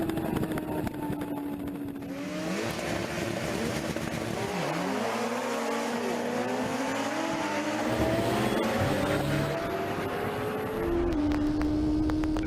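A BMW HP4 superbike on a soaking wet practice run, its engine screaming loudly and continuously as it rises and falls through gear changes, with sweeping pitch shifts of hard acceleration and wind rush.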